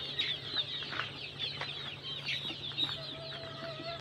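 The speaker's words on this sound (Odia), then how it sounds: "ଏଠି ଖଡ଼ନାଥ କୁକୁଡ଼ା ଅଛନ୍ତି" All-black Kadaknath chickens cluck inside a room on a poultry farm, with several birds making repeated short clucks at moderate volume near and farther off. A steady background hum runs underneath.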